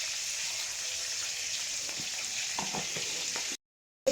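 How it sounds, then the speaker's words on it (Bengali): Tomatoes frying in a pan for a cabbage dish, a steady close sizzle with a few stirring scrapes toward the end before a brief cut to silence. "টমেটোগুলো দিয়ে দিচ্ছি আস্তে আস্তে। দিয়ে এবার ভালোভাবে নাড়িয়ে নিচ্ছি।"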